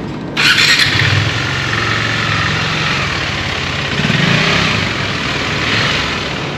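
Motorcycles are ridden up onto a ship's vehicle deck, their engines revving and idling in an enclosed, echoing space, with a brief high squeal at the start and steady loud engine noise throughout.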